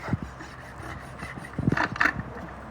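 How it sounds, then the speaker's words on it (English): A farrier's rasp scrapes across a horse's hoof wall to round its outer edge during a trim, in a few rough strokes close by. The strokes grow denser and louder near the end, and no one speaks. "finish rounding the outer edge of the hoof wall there again for no breakage over the course of the trimming cycle"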